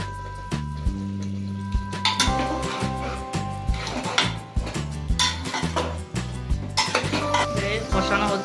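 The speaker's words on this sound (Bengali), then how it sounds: "আলু দিয়ে ভালো করে মাংসটা কষানো হচ্ছে।" Mutton and potatoes are stir-fried in a pot for Bengali mutton curry, with a spoon scraping and clanking against the metal in an irregular rhythm over a low sizzle, close by and fairly quiet.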